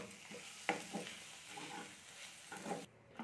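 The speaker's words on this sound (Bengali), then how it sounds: "দিয়ে এটাকে আমি নেড়ে নামিয়ে নিচ্ছি" Vegetables for pav bhaji being stirred in a pan with pav bhaji masala and chopped coriander, giving a soft continuous sizzle with a few sharp scrapes and clinks of the spoon against the pan.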